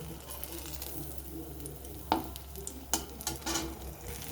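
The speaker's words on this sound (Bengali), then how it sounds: "এবারে আমি অন্যগুলো একইভাবে ভেজে নেব" Bread snacks frying in a pan, a quiet steady sizzle of oil with a few sharp clicks and scrapes of stirring near the end.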